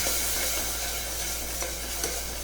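Salt, sugar and cumin stirred into a mixture in a pan for mug bhat, a steady soft sizzle with light scraping strokes running throughout, close and alone.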